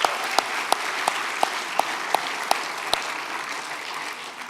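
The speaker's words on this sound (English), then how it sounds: "How about a round of applause?" Audience at a civic forum on Portland's system of government applauds steadily, a dense wash of many hands clapping with a few sharp, louder claps standing out at regular intervals, fairly near and continuous throughout.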